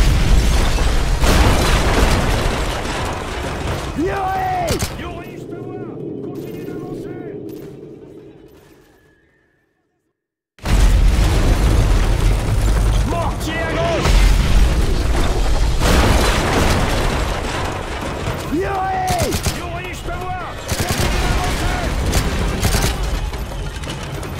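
Mortar rounds from Call of Duty Modern Warfare 3 slam down in repeated heavy explosions amid gunfire and battlefield chaos, with shouted voices mixed in, a brief near-silent gap midway, then the bombardment resumes loudly.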